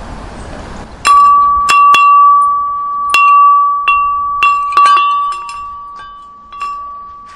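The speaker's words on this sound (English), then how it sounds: "it's got a hell of a noise" A homemade wind chime made from a fire extinguisher, struck about a dozen times in uneven succession, each clear metallic ring sustaining and overlapping, loud and close with no talk.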